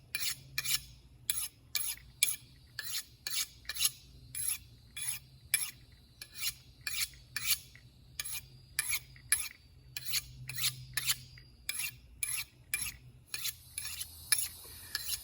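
Steady sharpening strokes of a D2 steel knife blade on a stone, about thirty rhythmic rasping passes at an even pace, close and clear with no talk.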